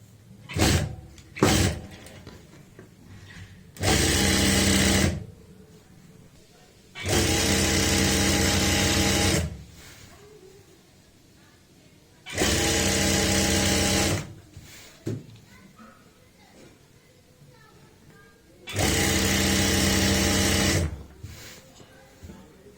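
A sewing machine stitches the side seam of plazo pants with a half-inch margin, running in four separate loud, steady bursts of a few seconds each, with quieter handling sounds of cloth in between.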